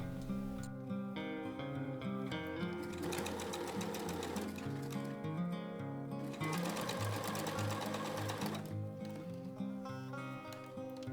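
A sewing machine stitches a seam on a drawstring dress, running steadily and continuously, close and fairly quiet, with its buzzing rhythm growing busier in two stretches.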